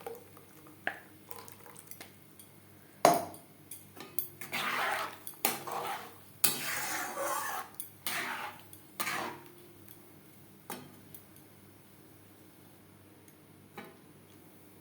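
Yogurt and gram flour batter is poured and stirred into water in a metal pan, with scattered clinks, taps and scraping strokes of a spoon against the pan, close and quiet between bursts.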